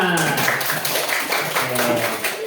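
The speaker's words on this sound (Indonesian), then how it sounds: "beri tepuk tangan untuk kelompok 4" A class of fourth-grade students applauds a student group after their presentation, with dense, continuous clapping and some voices mixed in for a couple of seconds.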